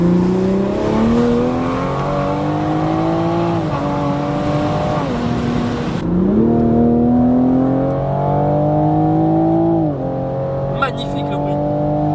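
A tuned 500 hp Toyota Supra engine revving hard up through the gears, a loud close rising howl that drops at each shift and climbs again, ending with a brief chirp.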